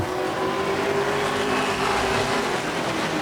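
A modified race car, the green number 67, accelerates hard around an oval during a feature race. Its engine holds a loud, steady, continuous roar that stays close and undiminished for the whole stretch.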